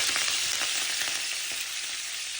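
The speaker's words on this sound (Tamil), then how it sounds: "இந்த மூண்டையும் போட்டு நாங்கள் நல்லா வதக்குவோம்" Fenugreek seeds, cumin and curry leaves sautéing in hot oil for a prawn and potato curry, a steady close sizzle with faint crackles and no talk.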